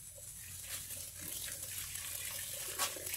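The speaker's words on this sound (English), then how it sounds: "And that's washing the crawfish." Tap water runs steadily into a sink while crawfish are being washed, a continuous hissing splash with slight surges and no talking.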